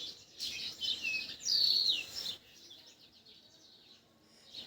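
Birds perched in a walnut tree sing nearby in high, bright chirps and trills, strongest in the first half, then softer twittering continues against a quiet background.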